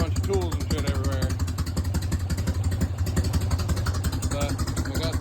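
A 1988 Harley-Davidson Softail engine runs steadily with a slight rattle, a loud close idle with a pulsing low rumble throughout while someone talks over it.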